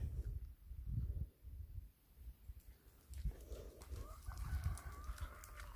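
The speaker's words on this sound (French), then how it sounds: "Et le coq." A rooster crows faintly in the distance in the later seconds, over low outdoor rumble and handling noise.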